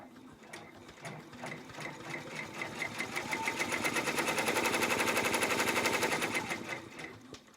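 An embroidery machine stitches a tack down for an in-the-hoop zippered wallet, a fast close mechanical needle rattle that runs steadily and builds in loudness through the middle before easing slightly, with no talking.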